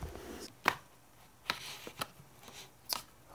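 A blade slicing through cardboard packaging on a box of PC parts, heard as a few sharp, separate rips and scrapes spaced irregularly, fairly close and alone.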